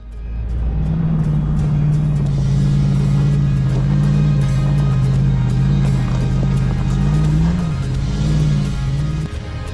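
A car climbs a high-country mountain track toward Howitt Plains, its engine a loud, steady drone whose pitch wavers as the throttle changes for the whole stretch.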